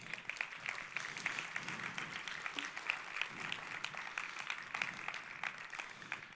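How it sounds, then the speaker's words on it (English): A round of applause from a conference audience after a quantum computing talk: continuous, fairly distant clapping from a sizeable crowd, steady and even throughout with no speech over it. "So let's give them a big round of applause."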